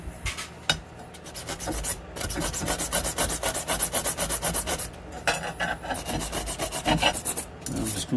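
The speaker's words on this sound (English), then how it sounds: "I'm just going to hit it with my plumber's emery. Get it a little rougher than that." Plumber's emery cloth scrapes back and forth over a pipe to roughen it, a close, loud rasping rub in quick repeated strokes with brief pauses between runs and no talking.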